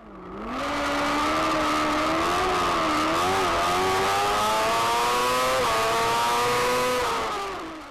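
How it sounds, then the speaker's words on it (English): An F2 racing sidecar engine screams at high revs during a race at Anglesey, Wales, rising and falling slightly as it roars past, loud and sustained, fading in and out at the ends. "Is it me, or does Chris Schofield have absolutely no sympathy on the engine of his outfit?"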